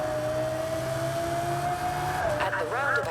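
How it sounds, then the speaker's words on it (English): Porsche Carrera GT V10 in Forza Horizon holds a steady high-pitched whine, then revs rise and fall sharply as gears shift near the end; the engine sounds close and continuous. "this is just going to be 7 miles of screaming V10"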